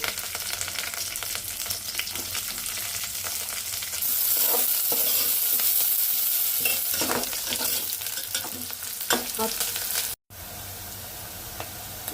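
Cloves, cinnamon, shahi jeera and onions fry in hot oil with a loud, steady sizzle, punctuated by scraping stirring strokes, before a brief cut and a calmer sizzle at the end.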